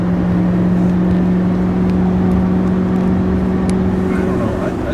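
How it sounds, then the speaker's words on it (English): A 2023 GMC Sierra 3500 AT4 diesel pickup, towing a big fifth wheel, drones with a deep steady engine hum from inside the cab, while people talk over it. "Sounds like a diesel now."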